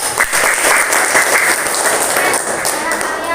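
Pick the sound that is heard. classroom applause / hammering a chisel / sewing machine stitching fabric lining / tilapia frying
classroom applause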